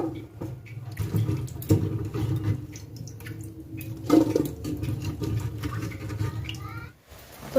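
Cauliflower florets rinsed under a running kitchen tap, a continuous splashing water stream with bumps and knocks of handling, close and fairly loud, no talk.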